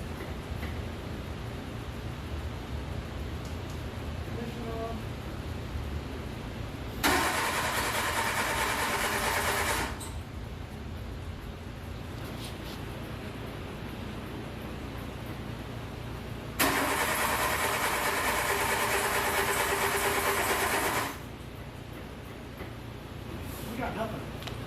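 Renault Le Car with suspected bad points, its engine cranking through two long bursts of starter whir and then idling roughly at a steady, fairly faint level, with people talking over it.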